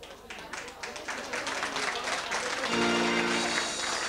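A carnival session crowd claps for Ruth, a full, steady round of applause that starts as a person is talking and swells into loud, sustained clapping.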